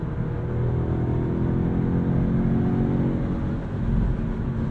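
A 2022 Audi S3 with a dual-clutch gearbox accelerates, its engine holding a steady rising drone heard from inside the cabin, fairly loud and continuous with no talk.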